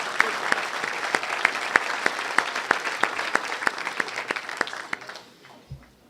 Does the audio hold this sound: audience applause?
yes